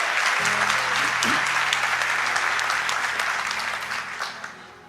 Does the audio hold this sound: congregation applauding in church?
yes